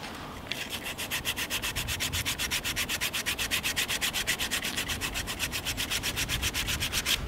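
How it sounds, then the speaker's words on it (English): Sandpaper rubs rhythmically along a carved hazel walking stick, smoothing knife marks in steady back-and-forth strokes, close and fairly quiet with no talking. "it's just a matter of running the sandpaper along and just smoothing out all those kind of chips and edges left from the knife"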